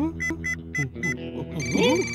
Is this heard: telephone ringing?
yes